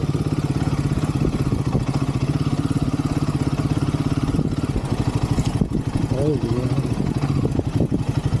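A Royal Enfield Himalayan 450 motorcycle engine runs with a steady close thumping beat on a test ride, with a voice speaking briefly over it near the end.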